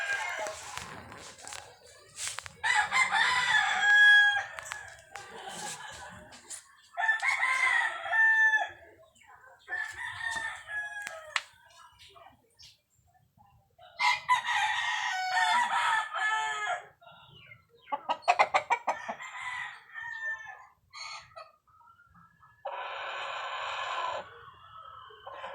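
Sweater-Gilmore cross gamecocks crow repeatedly, several long cock-a-doodle-doo calls one after another with short gaps, loud and close, with occasional clucking between.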